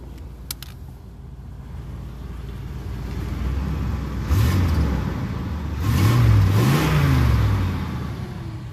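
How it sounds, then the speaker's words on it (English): A 1987 Cadillac Brougham d'Elegance V8 idles quietly, then revs twice, the second time longer and higher, each rise swelling and falling back to idle, heard close up from outside the car. "Let's give it a little rev."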